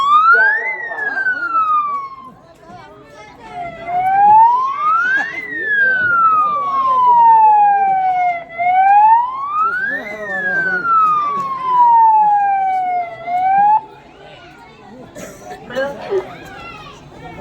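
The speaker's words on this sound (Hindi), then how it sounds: "बटन दब गया होगा ना वो सायरन का" A wailing siren sweeps up and down repeatedly in long rising and falling cycles, loud and close, with children's voices in the background.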